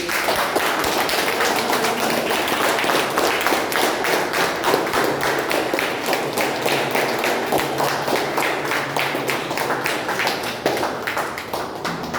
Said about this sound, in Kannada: ಮಿಸ್ಟರ್ ಗಂಗರಾಜ್ ಸರ್ನ ನಿಮ್ಮೆಲ್ಲರ ಜೋರು ಚಪ್ಪಾಳೆಯೊಂದಿಗೆ